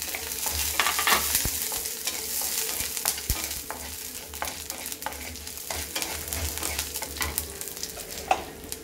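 Red chillies and garlic frying in oil for ridge gourd thovaiyal, a steady close sizzle broken by sharp scraping clicks of a spoon stirring the pan, with no one talking.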